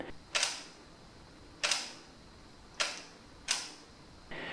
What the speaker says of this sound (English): giving you that infamous camera snapping sound you hear